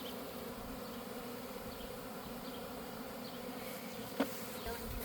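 Honey bees from a swarm that has just left the hive buzz steadily and densely all around, a continuous close hum with a brief sharp click near the end.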